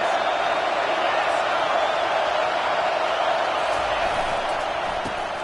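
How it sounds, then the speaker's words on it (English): Roaring football stadium crowd during a third-down play, a dense, steady wash of cheering and noise that holds loud and constant throughout, with no clear individual voices. "this crowd is tearing the lid off this place"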